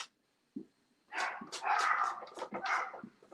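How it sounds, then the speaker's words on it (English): A frightened dog whimpering and yipping at fireworks, a quiet yelp followed by a run of high, strained whines and short barks, fairly close and alone. "Looks like the dog hears fireworks."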